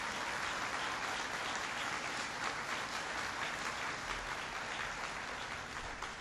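An audience at a presidential speech on energy breaks into sustained applause, a dense, even wash of clapping from a large crowd that holds steady throughout without voices rising above it.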